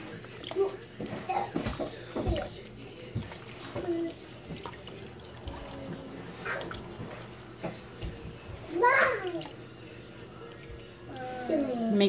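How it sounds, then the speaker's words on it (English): Water is cupped by hand and poured over a cat during a bath, making soft trickles and small splashes beneath steady calm talking, with occasional faint cat sounds. "Cup the water in your hand."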